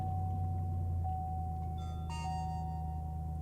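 A truck dash cam sounds a thin electronic startup chime over a low idling engine hum, first a steady tone and then a brief bright cluster of higher beeps, fairly faint with no talking.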